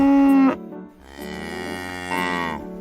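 Cartoon cows on a farm give two drawn-out moos, one short and one longer, rising and falling, clear and fairly close with no other sounds around them.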